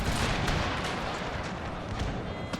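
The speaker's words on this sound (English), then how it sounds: "pistoliers open fire" Pistoliers firing in a Total War game set in the Thirty Years War, with Habsburg forces, sounding as a dense, continuous crackle of massed gunfire and booming shots across the battlefield, loud and busy without letup.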